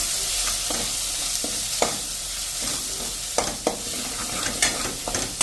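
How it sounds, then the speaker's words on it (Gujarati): A spoon stirs a dal mixture with salt and spices in a hot pan, a soft sizzle running underneath while irregular scrapes and clicks of the utensil against the pan punctuate it. "અને આને આપણે એકદમ સરસ મિક્સ કરી લેશું મસાલા સાથે"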